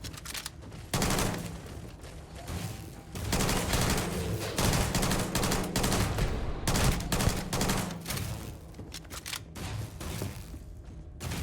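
Sustained rapid gunfire from weapons in the video game Starfield, played on very hard mode against high-level enemies, with dense overlapping bursts and thudding impacts continuing almost without pause, loud and close.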